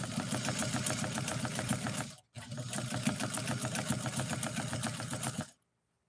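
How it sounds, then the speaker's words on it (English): A rare New Home Model 444 sewing machine runs at speed, stitching canvas with a leather needle. The dense mechanical chatter drops out briefly, starts again and runs steadily until it cuts off. "sewing canvas with a leather needle is probably not the ideal thing to do"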